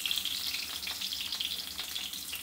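Eggs sprinkled with salt and chili powder roast in a pan over medium heat, giving a soft, steady, crackling sizzle up close with slight stirring movement and no talk.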